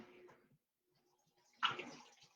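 Water runs briefly from a tap as hands are rinsed, a soft close splash that bursts on after a quiet pause and trails off.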